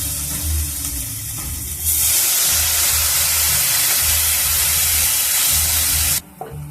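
Ginger and a splash of water go into spices frying in a pan, which bursts into a loud, steady hissing sizzle that lasts several seconds and then cuts off sharply.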